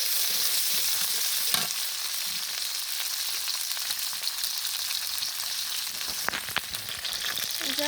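Onions and chillies fry in oil on a stove with a constant bright hiss and sizzle, broken by occasional sharp crackles and spatula scrapes.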